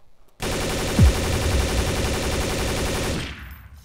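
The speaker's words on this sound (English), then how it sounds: "Alright, so here's the gunshot." Automatic gunfire from Counter-Strike: Source, a dense, loud, continuous burst of rapid shots lasting about three seconds, then a short echoing tail.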